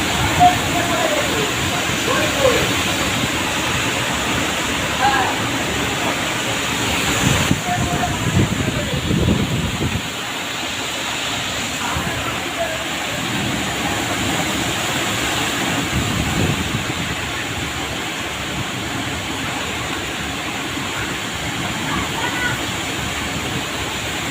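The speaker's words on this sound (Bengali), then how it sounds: "প্রচুর জোরে ঝড় বৃষ্টি হয়েছে চারদিকে" A steady roar of wind and heavy rain, with gusts swelling and buffeting the microphone, loud and continuous throughout.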